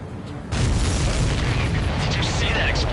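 In the Ace Combat 7 flight game, a missile strikes a supply ship and erupts in a sudden deep boom. A sustained roaring rumble follows, loud and close, with radio-style voices faintly underneath.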